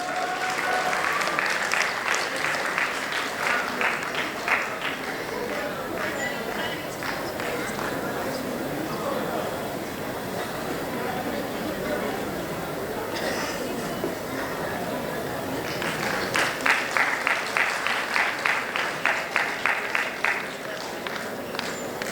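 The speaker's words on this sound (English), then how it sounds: "Please give a big round of applause for Dr. Rakesh Kumar Satra" Audience applause at a medical college convocation ceremony, a sustained wash of many hands clapping across the hall, swelling into sharper rhythmic clapping toward the end.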